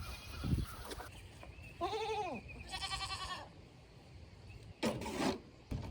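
A goat bleats a few times, wavering calls with pauses between them, fairly close, with some rustling and knocking around.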